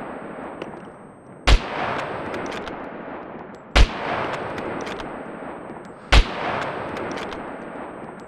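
Three loud, sharp gunshots spaced a couple of seconds apart during a SCUM zombie-survival video game fight, over a steady bed of in-game noise and rumble.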